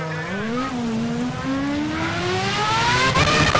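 Formula 1 car engine in Project Cars racing through the rain, a steady high whine rising in pitch through the gears as it accelerates, loud and continuous with spray hiss beneath.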